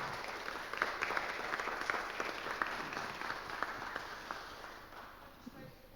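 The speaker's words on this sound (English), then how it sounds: "big round of applause for everyone" An audience at a sustainable living festival claps in a round of applause, a fairly faint, dense patter of hands that holds steady for several seconds before tapering off.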